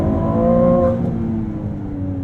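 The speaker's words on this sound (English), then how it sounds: "the twin-turbocharged V6 spools up, builds that boost, and then lets it fly" A Ferrari 296 GTB twin-turbo V6 hybrid accelerates hard from close range, its engine note rising smoothly and strongly in a short burst before settling slightly.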